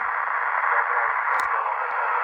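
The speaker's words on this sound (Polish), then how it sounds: "w tej chwili jedynie słychać właśnie te, te szumy i na poziomie szumów" Steady band-limited radio hiss from a 70 cm amateur repeater some 40 km away, continuous and even with a couple of faint clicks.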